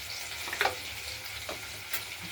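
Potato pieces seasoned with salt and a little turmeric fry in a pan, a steady close sizzle with a few soft stirring scrapes and no talking.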